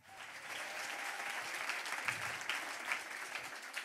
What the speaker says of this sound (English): Please applaud with a warm welcome from the LMU Munich, Jan Ullmann.